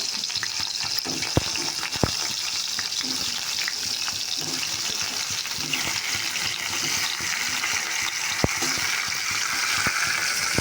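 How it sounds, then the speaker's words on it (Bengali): Tomatoes fry in oil in a home kitchen, giving a steady, dense sizzle throughout with occasional sharp clicks and utensil taps. "এই তেলে একবার টমেটো টমেটোগুলো ভেজে নেবো"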